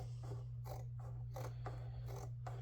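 Cheap Hobby Lobby scissors cutting leather, a string of close, crisp snips in a steady rhythm, about eight cuts over a low constant hum, with no talk.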